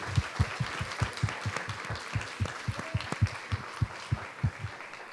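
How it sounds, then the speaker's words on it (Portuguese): A church congregation claps in a steady rhythm, the beats landing as regular, punchy thumps over a soft background wash. "Vamos aplaudir ao Senhor"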